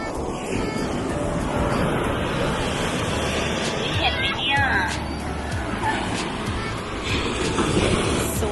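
Strong sea waves wash and surge around a speedboat heading to Nusa Penida off Bali, a steady broadband roar with wind and engine rumble throughout, and voices murmuring faintly beneath.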